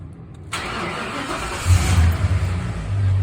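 Ford Fairlane NF Ghia engine cranking and catching, then settling into a low rumbling idle with a slight rev, close and loud with steady background hiss.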